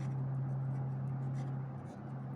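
A pen scratches steadily on a surface during a Class 7 math lesson on profit and loss, faint and continuous over a low electrical hum, with no talk.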